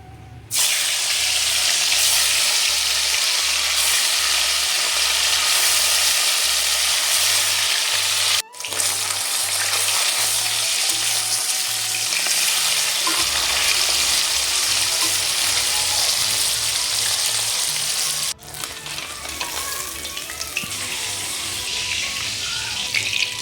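Fish frying in mustard oil in a kadai: a loud, steady sizzle and hiss runs almost continuously, broken by two brief dips, with a low tonal backing underneath.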